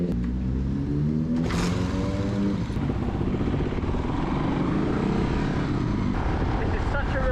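A KLR 250 off-road motorbike rides along with a steady, loud engine drone and rumble throughout, shifting pitch slightly, while someone talks over it.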